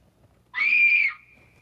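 A synthetic scream effect from a Lowrey touchscreen organ sounds once, about half a second long, as a loud, steady, high-pitched tone that fades into a thin sustained whistle.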